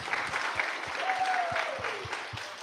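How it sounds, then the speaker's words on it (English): Audience applause at a graduation ceremony, a steady dense patter of many hands clapping together, fairly close and continuous, with a faint voice heard briefly underneath. "let's give them a round of applause"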